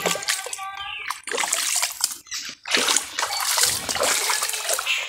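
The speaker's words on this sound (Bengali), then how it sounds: "পুকুরের জলটায় নামবো।" Someone steps into a dark, rain-swollen garden pond, with close, irregular splashes and sloshing water in several bursts separated by brief quiet gaps.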